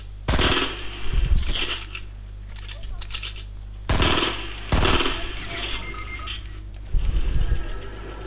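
Fortnite gunfire hits a wall in loud bursts of rapid shots, separated by short gaps, with electronic beeps mixed in and a faint voice underneath.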